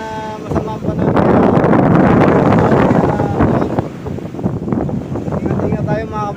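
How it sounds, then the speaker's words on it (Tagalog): Strong wind buffets the microphone in loud, rumbling gusts that rise and fall, with faint voices barely audible underneath. "kita nyo ang hangin kung gano'ng kalakas"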